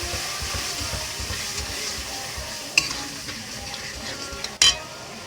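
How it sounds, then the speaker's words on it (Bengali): Ground spices such as black pepper and cumin powder being stir-fried in a pan give a quiet, continuous sizzle. A couple of sharp metallic scrapes or clinks cut in near the end. "এবার আমি ভালো করে মশলাটা কষিয়ে নেব"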